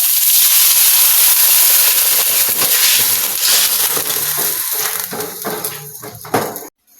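Garlic sizzles loudly in a hot pan, a dense steady hiss of frying that slowly thins out before cutting off abruptly.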